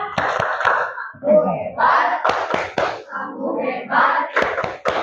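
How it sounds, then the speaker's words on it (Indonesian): A primary school class in Indonesia performs the 'tepuk hebat' clapping chant, sharp rhythmic hand claps breaking up shouted group chanting of young voices, loud and close across several beats. "Kita beri apresiasi dulu, tepuk hebat buat kalian semua."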